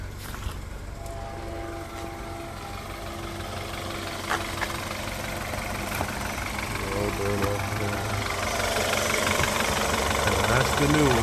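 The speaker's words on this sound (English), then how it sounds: "She seems to idle a little smoother too." A 2013 BMW 528i with the N20 engine idles after its brake booster vacuum pump was replaced, giving a steady, even hum with a faint ticking that grows slightly louder toward the end, while someone talks over it.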